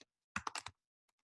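Brief burst of computer keyboard typing, a quick run of about five close keystrokes renaming a virtual machine, then two faint isolated taps after a pause.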